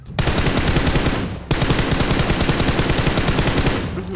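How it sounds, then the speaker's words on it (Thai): Rapid automatic gunfire in PUBG Mobile, a dense, loud burst of repeated shots that breaks briefly near the middle and then resumes, continuing almost without pause. "ยิงไม่โดนเลยเมื่อกี้"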